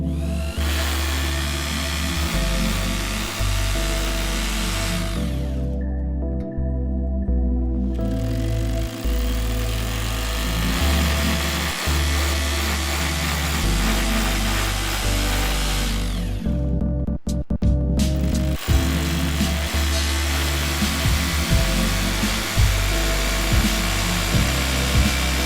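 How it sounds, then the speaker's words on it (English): A power drill bores holes into a wall for an air conditioner stand, a loud grinding whine that runs in long bursts with two short pauses. "Now, drill holes at the marked points ."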